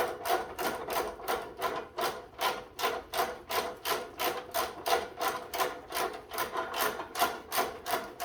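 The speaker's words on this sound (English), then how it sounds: "Tightening the bottom bolts first before I tighten the top ones." Bolts being tightened on a 1970s 4HP Tecumseh engine from a Moto Mower snowthrower, heard as a steady, even run of about two rasping ratchet strokes per second, close and continuous with no pauses.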